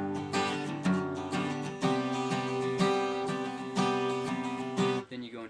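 Acoustic guitar strumming a short lead-in passage before the first verse of a worship song, even rhythmic chords close-miked and bright, ending with a brief pause and a few softer notes.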